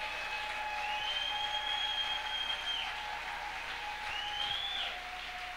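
Applause from a church congregation, a steady wash of clapping heard at some distance with long sustained tonal whines from a sound system over it.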